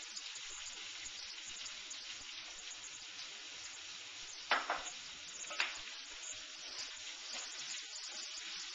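Vegetables stir-frying in hot oil in a home kitchen pan, a steady bright sizzle throughout, broken by a couple of louder scraping stirs partway through; close and continuous, with no voices.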